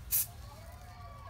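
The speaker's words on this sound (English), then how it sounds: "I'm just going to take my gloss and spray it" One short, sharp hiss of gloss spray from a can onto a glitter-covered mannequin head, heard up close against a quiet room.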